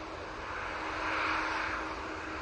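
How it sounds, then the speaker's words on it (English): A Ryanair Boeing 737 MAX 8 takes off from Manchester Airport, its broad engine roar steady and fairly loud, swelling slightly in the middle as it passes, with no talk over it. "There goes the Ryanair 737 MAX 8. And they're off to Lanzarote."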